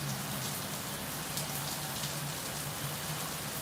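Steady rain hisses evenly and continuously, a dense wash of drops falling on a surface at a moderate, unchanging level, with no voices over it.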